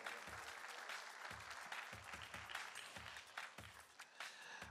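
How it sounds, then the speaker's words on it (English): Audience applause at a university talent show grand finale, a steady wash of many hands clapping, faint and distant, continuous throughout with no speech over it. "let's give Coca-Cola a round of applause"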